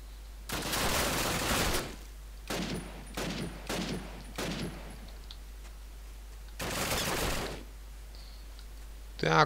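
Machine gun fire in the video game Call of Duty, heard as several loud bursts: a long one, a run of short repeated bursts, then another long burst, with a brief sharp sound at the end.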